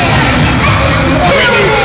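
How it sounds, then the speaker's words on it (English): A dense, loud arena crowd roars and cheers after a high school basketball putback slam dunk at Crypto.com Arena, the noise steady and close throughout with shouts and whoops mixed into the din. "That lights up the crowd here at Crypto.com Arena."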